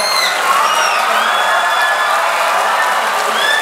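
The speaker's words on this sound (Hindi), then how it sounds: "प्लीज उनके लिए बहुत बड़ी ताली बजाइए जनाब नवाब मलिक साहब के लिए" Loud, sustained applause and cheering from a large crowd in a hall, honoring newly appointed Maharashtra cabinet minister Nawab Malik with a standing ovation; dense clapping and whoops fill the whole stretch.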